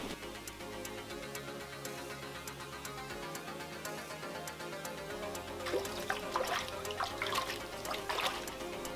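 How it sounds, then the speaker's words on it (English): Water pours steadily into a reef aquarium tank after a water change, a continuous close trickle and splash that grows brighter and busier partway through, with no talking. "hit the on switch and start filling the tank"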